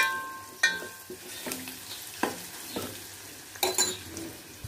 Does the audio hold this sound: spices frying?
yes